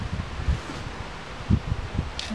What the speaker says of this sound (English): If you can hear, it's very windy out today.